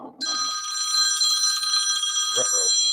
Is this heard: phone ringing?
yes